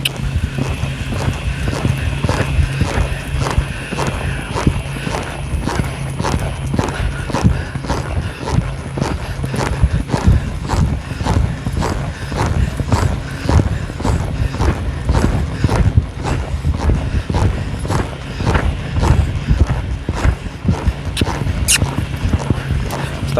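Hooves of a ridden ranch horse clip-clop in a steady, even rhythm for the whole stretch, close and fairly loud outdoors, with only faint background noise and no clear talk.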